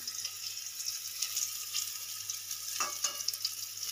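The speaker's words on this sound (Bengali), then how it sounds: "এই দেখুন আমি 3 মিনিট মতন উচ্ছেটা ভেজে নিয়েছি" Bitter gourd frying in hot oil, a steady close sizzle with soft crackles and faint stirring scrapes, no voices.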